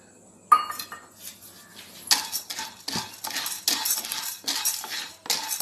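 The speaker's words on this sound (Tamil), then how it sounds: "கடலைப்பருப்பை கொஞ்சம் செவக்க வறுக்க வேண்டியது தான்." Chana dal being dry-roasted in a pan for homemade sambar powder, heard as a close, dry rattle and repeated metallic scraping of a spoon stirring the lentils, with no talk.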